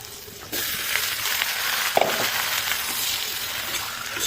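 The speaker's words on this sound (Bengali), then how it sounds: "পেঁয়াজ মরিচ দিয়ে দিলাম পেঁয়াজ মরিচ একটু ভাজা হোক" Onion, chilies and tomato sizzle steadily in a hot pan after a quiet first half-second, with a brief clatter near the middle, cooking for a tomato bhaji served with beef and chana dal.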